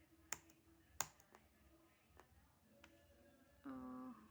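Quiet keystrokes on a computer keyboard as a password is typed and entered: a few scattered sharp clicks, sparse and faint, followed by a brief tone.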